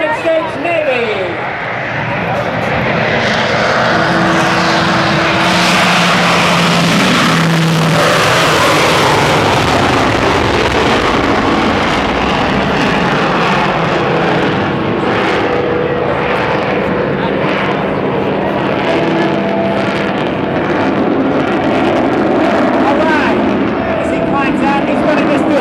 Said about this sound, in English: Let's watch him rock and roll the F-14 Tomcat from the United States Navy.